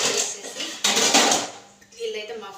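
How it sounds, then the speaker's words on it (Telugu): Dishes are washed in a sink, with close clattering of pots and cutlery and splashing water over a couple of seconds, and a voice speaks faintly beneath. "గిన్నెలన్నీ కడిగేస్తున్నాను"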